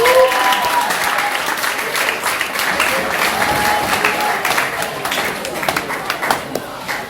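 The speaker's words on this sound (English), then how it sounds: "Can we give a round of applause for that?" A lecture audience applauds at a talk on children's rights and democracy in Nigeria, dense steady clapping from many hands that stays loud throughout and tapers only slightly toward the end.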